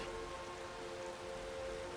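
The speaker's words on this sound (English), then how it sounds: "oh, here comes the rain" Steady rain begins falling in the open-world video game Skyrim near Whiterun, a continuous broadband hiss with no talk over it.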